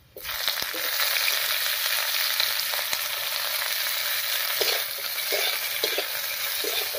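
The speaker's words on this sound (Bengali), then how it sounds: "পেঁয়াজ কুচি দিয়ে একটু নাড়িয়ে নিয়েছি।" Chopped onion sizzles steadily in hot mustard oil, a loud continuous fry with light scrapes and taps as it is stirred in the pan, with no voices.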